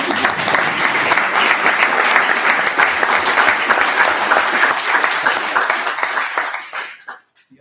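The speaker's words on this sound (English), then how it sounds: "I'll put out a quick round of applause." Attendees at a support group meeting give a sustained, dense round of applause that stays loud for about six seconds before fading out abruptly.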